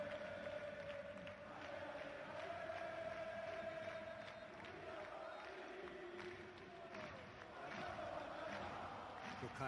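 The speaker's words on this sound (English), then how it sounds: "Well, the crowd clearly like what they just saw." Stadium crowd in the PES 2021 football video game roaring and cheering steadily throughout, a broad continuous wash of many voices at moderate level with a faint commentary voice underneath.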